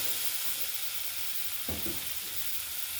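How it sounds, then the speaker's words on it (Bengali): Masala sizzles steadily in a hot pan with a little water, a dense continuous frying hiss with a brief stir of the spoon midway, no voices. "একটু জল দিয়ে কষে নিচ্ছি।"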